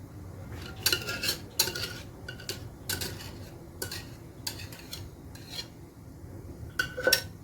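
A spatula spreads qishta cream across hot kunafa, giving soft, faint scraping strokes broken by several sharp clinks of metal against the tray, with quiet gaps between them.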